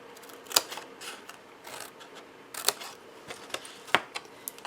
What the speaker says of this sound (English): now notice I'm cutting on the tabs